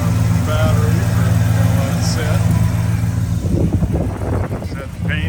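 1968 Chevrolet El Camino V8 with dual exhaust running, a steady, loud idle rumble held close throughout while a person talks over it.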